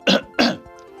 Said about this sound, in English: we can say that someone's got a cough